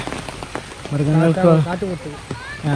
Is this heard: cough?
no